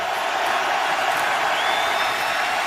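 A home crowd of Steelers fans in a Pittsburgh football stadium roars steadily during a third-and-long play against Kansas City, producing a dense, continuous wall of distant cheering and noise with no break.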